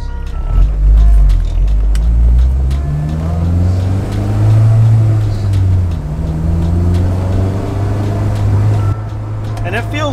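An Acura RSX fitted with an electric power steering conversion reverses into a parking spot, its engine a steady, close, low rumble throughout, with muffled voice-like sound in places.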